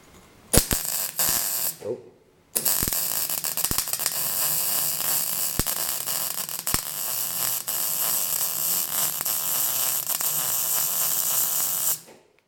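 MIG welding on thin auto body panels, a continuous harsh buzzing crackle held for about ten seconds after a few short bursts, close and loud with no talking.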